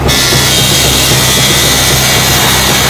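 A power tool cuts a hole behind a fridge, giving a loud, continuous, harsh whining roar that holds steady throughout, close up with no speech.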